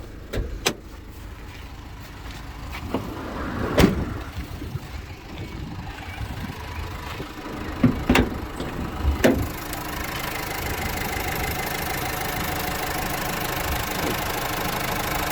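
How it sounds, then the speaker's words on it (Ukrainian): A 2019 Renault Master van engine idles steadily at close range, a low continuous rumble with several sharp clicks and knocks over it at first, then an even hum. "ви чуєте стан роботи двигуна"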